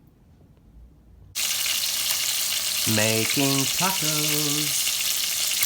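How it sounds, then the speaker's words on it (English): Chicken for tacos sizzles and fries in a pan, the loud, steady hiss starting abruptly and continuing throughout, with a short stretch of a person talking over it. "tacos. Chicken tacos."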